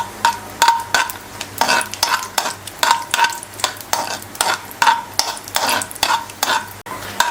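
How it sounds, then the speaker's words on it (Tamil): Cashews frying in two spoons of hot ghee in a kadai for beetroot halwa, heard as a close, steady sizzle broken by a regular rhythm of scraping stirring strokes about every half second, with no talk. "நெய் நல்லா காஞ்சோன்னா இப்போ நம்ம வச்சுருக்க முந்திரியை போட்டு கொஞ்சம் வதக்கலாம்"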